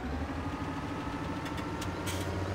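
An old JCB vehicle idles in Farming Simulator 2017 with a steady, moderately quiet engine drone that stays even throughout.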